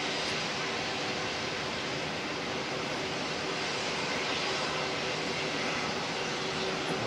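Fiji Airways Airbus A330 on flight 411 from Nadi at Auckland Airport in crosswinds, a broad, steady engine roar at a distance, continuous and unbroken with no voices.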